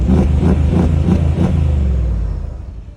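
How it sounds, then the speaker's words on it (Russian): Mercedes G63 6x6 exhaust close up, giving four quick throttle blips over a heavy rumbling idle that then fades and drops away, with no talk. "Прекрасный выхлоп у Г63."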